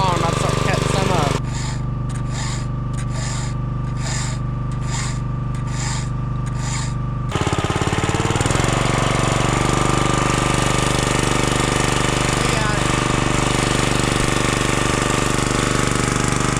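Chainsaw cutting pine firewood outdoors in melting snow, a loud, steady, buzzing engine roar that keeps running throughout, with the pitch dropping and rising again midway as the chain bites into the wood.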